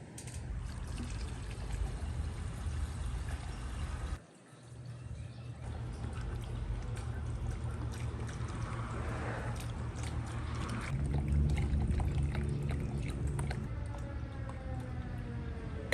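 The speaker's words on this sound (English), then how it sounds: "Let's pour all this stuff in there, let it sit, and then we'll see what comes out of there." Fuel tank cleaner poured into the fuel tank of a Mercedes W140 S500, a steady liquid gurgle and splash running throughout with a short break partway, no talking.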